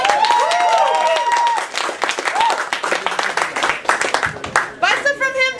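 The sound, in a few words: applause at live show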